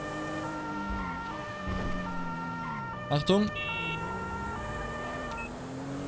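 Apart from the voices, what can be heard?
police car siren in video game GTA 5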